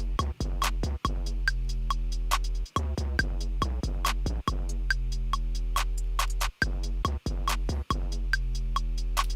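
A produced drum loop with velocity-ramped hi-hats that rise and fall in loudness, set over a steady kick and bass groove; the pattern repeats rhythmically and loudly on its own, with brief dropouts between bars.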